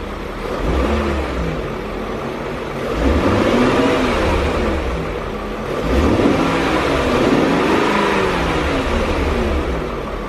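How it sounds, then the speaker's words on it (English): A BMW E39 M5 engine revs loudly and close by, rising and falling through several throttle blips over a steady idle, with no talking. "All right, I'll give you guys a few revs just so you can hear it."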